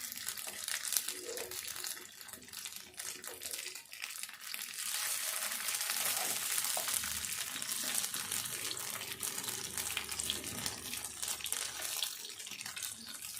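Potato and flattened rice (poha) patties frying in a pan give off a steady, loud, broadband sizzle that holds without a break, close to the pan, with no voices over it.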